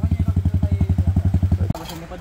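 A motorcycle thumps over a wet, mossy, rocky trail section in the rain, its engine pulsing in fast, even beats for nearly two seconds before cutting off abruptly into quieter clatter.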